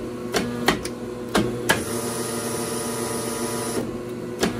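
A Challenge HBE 193 paper cutter cycles its clamp and blade over a steady motor hum, with several sharp clunks and thumps at irregular intervals and no talk.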